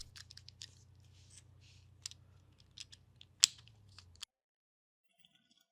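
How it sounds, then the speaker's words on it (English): Side cutters snip the component legs on a circuit board in a series of sharp, close clicks and snaps, one especially loud crack among them, over a low hum that cuts off abruptly before a quiet tail. "you'll have to trim the component legs for clearance"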